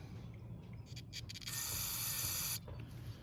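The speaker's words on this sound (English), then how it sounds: "And don't forget to spray out your main jet." Aerosol carburetor cleaner sprayed into the main jet of a Briggs & Stratton 775EX series lawn mower engine carburetor: one steady hiss lasting about a second, preceded by short bursts, over low background hum.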